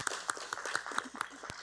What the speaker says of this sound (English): Can we just give them a round of applause even though they're not here?